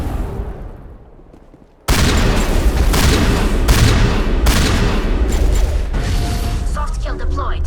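Sustained gunfire and turret crossfire from the Mass Effect video game, Virmire mission, bursting in loud and dense after a quiet opening and holding as continuous rapid shots and booms, with voices faintly underneath.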